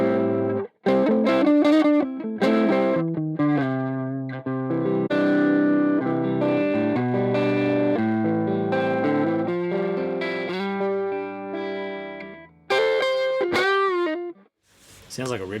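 Electric guitar played through a Two Notes Torpedo Captor X with its Nightfall mic simulation, a dark, effected, distorted tone ringing out in sustained chords and single notes, loud and continuous, with a brief break near the end.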